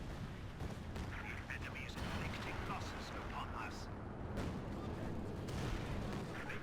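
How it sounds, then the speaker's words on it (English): Artillery strikes pound armor in the Company of Heroes 2 real-time strategy game, with repeated explosive booms and scattered gunfire over a constant battle din while a commentator talks throughout. "artillery coming in doing a lot of damage versus the armor"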